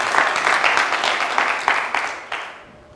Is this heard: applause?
yes